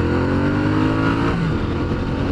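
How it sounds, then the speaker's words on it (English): Triumph Street Cup motorcycle engine at high revs in second gear on an interstate at about 70 mph, a loud steady drone with rising harmonics that levels off near the rev limiter, close and alone. "Hit rev limiter there, about 70 miles an hour in second gear."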